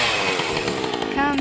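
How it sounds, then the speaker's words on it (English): A chainsaw running near a woodland sawmill setup, a brief buzzing engine drone with a rising pitch at the end, heard under a voice speaking. "That chainsaw comes in handy."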